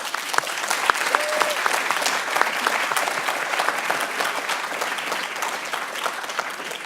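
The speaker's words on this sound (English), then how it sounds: "I like you to give them a good clap." Sustained applause from an audience at an award ceremony, steady and dense clapping that fills the whole stretch at an even level, with no voices over it.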